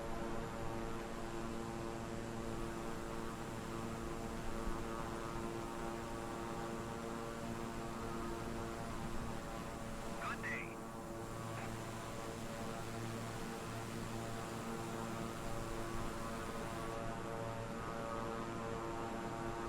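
Steady, droning engine hum heard from aboard an airplane flying over southwest Florida, a continuous tonal drone with a layer of broadband noise and no talk.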